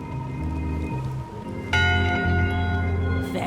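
A ship's bell rings out in Return to Monkey Island, struck once with a bright, sustained metallic tone that lingers over a low droning musical background, with no talking.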